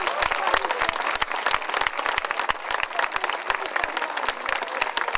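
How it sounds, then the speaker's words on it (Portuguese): Crowd applause at an outdoor São Martinho feast in Guifões honouring the festival committee, dense steady clapping with sharp individual claps scattered through, fairly close and sustained throughout. "a primeira palavra é de uma grande salva de palmas para a Comissão de Festas"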